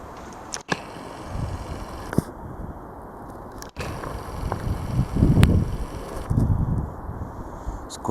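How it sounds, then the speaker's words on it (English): Wind gusting outdoors on a morning as aircraft pass overhead, a steady roaring buffet that swells and eases, with a few sharp knocks. "It's quite windy"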